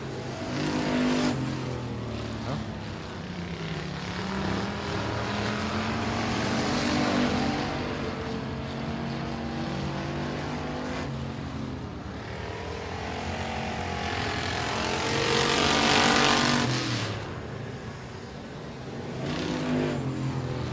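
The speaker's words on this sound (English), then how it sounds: "So Gary Harvin has himself a sharp-looking hot rod" A dirt track race car on a time trial lap at a speedway, engine droning and revving steadily for about twenty seconds, rising and falling as it circles the track at a distance, with no talk.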